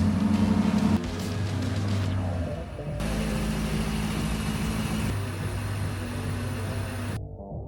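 A BMW X5 M50i idles and creeps forward into a garage, its engine hum steady and close with small shifts in pitch as it rolls.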